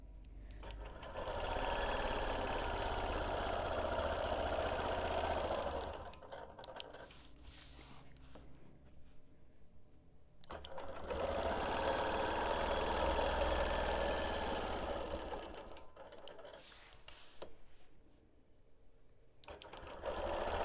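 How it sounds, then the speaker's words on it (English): A sewing machine quilting a wholecloth baby quilt along a ruler, running in two long steady stretches of fast needle hum with brief pauses between them, close and fairly quiet with no talk. "So here I am now quilting dot to dot."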